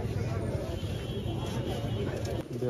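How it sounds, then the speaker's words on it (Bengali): A female pigeon coos softly at a busy pigeon market in Katakhali, Rajshahi. The low cooing sits under constant crowd babble and voices nearby. "মাদি কবুতর।"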